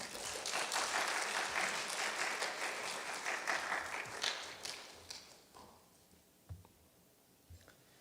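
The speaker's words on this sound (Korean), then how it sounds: "우리 큰 환영의 박수로 목사님을 맞이하도록 하겠습니다" Applause welcoming a pastor at a Sunday church service: a congregation claps steadily for several seconds and then fades out, leaving a few soft footsteps and taps in a quiet room.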